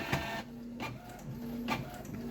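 Canon G4410 inkjet printer running a nozzle check, a soft mechanical whir with faint clicks and shuttle movements, steady and fairly quiet, heard alone.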